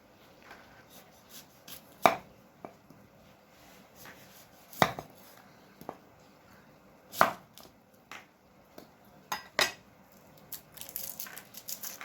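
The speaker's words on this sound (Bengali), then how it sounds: "এবারে এই স্ন্যাক্সের রেসিপি করার জন্য যে সমস্ত সবজি লাগছে সেগুলো আমরা কেটে নেব" A knife chopping vegetables on a cutting board while preparing Bengali potato snacks: close, quiet, crisp taps at an uneven, unhurried pace, about a dozen strikes that quicken toward the end, with no talking.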